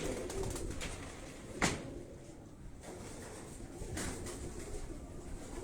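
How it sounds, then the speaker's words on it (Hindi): Pigeons of a bred rooftop flock cooing in low, soft, throaty murmurs, close and steady, with one brief thump partway through. "ये एक दूसरा कबूतर है"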